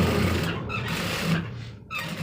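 A sewing machine runs steadily while stitching the base of a pant belt, giving a continuous close whirring hum that briefly dips before picking back up.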